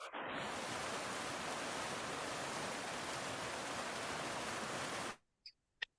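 A flowing water sound for a meditation plays as a steady, smooth rushing noise for about five seconds, then cuts off abruptly into near silence with a couple of faint clicks.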